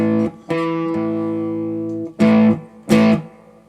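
A perfect fifth interval played on guitar, two notes ringing together in a sustained chord, struck several times with pauses between, clear and close with no voices.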